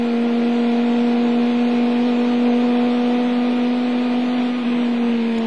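A Chrysler Viper race car at Le Mans in 1999 runs at full throttle, its engine a loud, steady, sustained drone heard from on board without a break.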